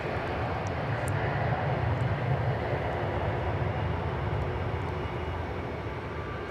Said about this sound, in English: Here goes the flight to Sao Paulo.